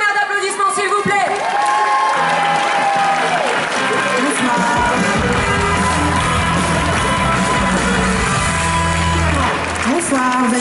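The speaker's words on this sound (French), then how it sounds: "Un tonnerre d'applaudissements s'il vous plaît." Festival crowd applauding and cheering a performance on stage, with loud, sustained clapping and a few whoops mixed over music and a tonal backing that keep playing throughout.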